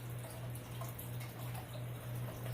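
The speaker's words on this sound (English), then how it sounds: "The water in the background is my fish tank." Steady trickle and splash of water circulating in a home fish tank, a soft continuous running-water wash with a low hum underneath, constant and unbroken throughout.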